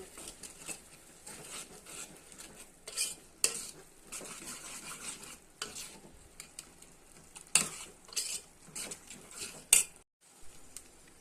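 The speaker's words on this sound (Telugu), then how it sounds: "మసాలా పౌడర్ తగినంత కర్రీకి తగినంత వేసుకొని కలుపు కలుపుకోవాలి" A spoon stirs masala powder into a tomato and egg curry in a pan, scraping and clinking in irregular bursts over a soft, low sizzle, close and without talk.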